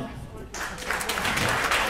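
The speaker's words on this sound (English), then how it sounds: "Parents clap." Audience parents clapping at a stand-up comedy show, applause swelling suddenly from near quiet into a dense, steady burst of many hands, with a voice mixed in.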